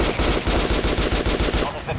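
Rapid gunfire from a weapon in Metro: Last Light Redux, a loud burst of evenly spaced shots rattling off close up for about two seconds with no talking.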